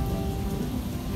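Heavy rain pours down steadily during a storm in the hills, with a dense, continuous wash of drops and a low rumbling undertone throughout.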